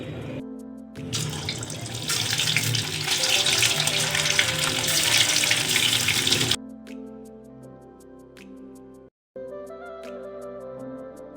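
Chicken Manchurian balls fry in hot oil with a loud, close, hissing sizzle that holds for several seconds, then cuts off, leaving soft background music.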